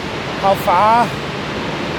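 Skradinski Buk waterfall in Krka National Park roars as a steady, broad rush of falling water heard from a viewpoint, with a voice briefly speaking over it.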